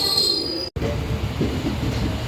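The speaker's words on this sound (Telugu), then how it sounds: "కరెక్ట్గా 5 నిమిషాలు లేట్లు అయితే బయలుదేరింది మన ట్రైను" Garudadri Express train pulling out of Tirupati station, loud rolling rumble with sharp wheel squeal and a brief dropout partway, steady carriage noise continuing afterward.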